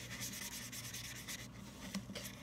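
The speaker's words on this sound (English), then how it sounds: "So I'm gonna keep going and stirring it." Paint brush stirred through soapy foam to clean and soften it, giving a steady, close wet rubbing and swishing that runs continuously at low level with no talking.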